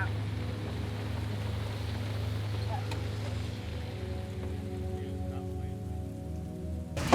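Rain pattering steadily across a golf course, a constant hiss with a low rumble beneath and a brief knock near the end.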